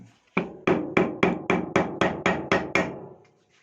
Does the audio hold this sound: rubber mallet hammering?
yes